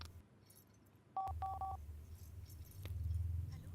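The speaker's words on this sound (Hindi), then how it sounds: "तुम अपने पिताजी को फोन लगाओ ना" Telephone keypad dialing, a few short beeping tones pressed in quick succession, faint over low hum and quiet room noise.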